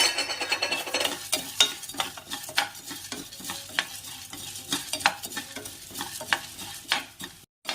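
Coriander seeds roast in a dry pan on a slow flame while a spoon stirs them, producing a rapid, irregular rattle and scrape of seeds over a soft sizzle, close and fairly loud, with no speech.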